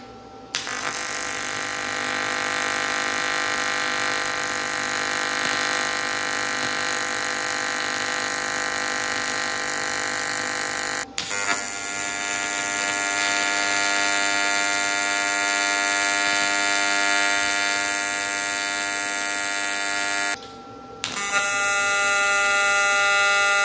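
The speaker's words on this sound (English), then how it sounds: "Let's get some welding done, and I'm gonna play with the frequency or the hertz." AC TIG welding on an aluminum coupon gives a loud, steady electric buzz rich in harmonics, broken by two brief pauses where the arc stops and restarts.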